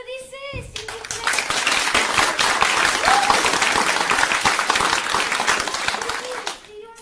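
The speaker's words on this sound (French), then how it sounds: "Applaudissez, s'il vous plaît." An audience applauds at a youth theatre show, a dense burst of clapping that swells after a voice and holds steady for several seconds before fading, with a voice and cheers mixed in.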